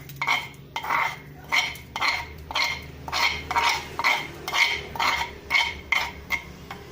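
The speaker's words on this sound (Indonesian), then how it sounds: "Cabai juga dimasukin sekarang. Yap, kita masukin cabenya." Chili goes into a cooking pot of asam padeh catfish from Payakumbuh, followed by a regular series of about a dozen scraping, clinking stirring strokes of a utensil against the pot, close and rhythmic, with faint sizzling underneath.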